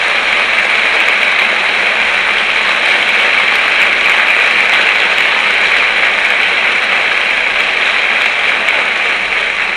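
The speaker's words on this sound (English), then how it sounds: "We'd like to have a tremendous applause for Marvin at this time." Steady, loud audience applause at a 1962 campus concert, an even wash of many hands clapping throughout without letup.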